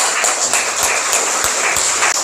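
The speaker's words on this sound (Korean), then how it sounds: "우리 다시 한번 하나님께 영광의 박수 올려드리겠습니다" Church congregation clapping during a Korean Easter worship service, a steady dense wash of hands with scattered sharper claps, loud and close throughout.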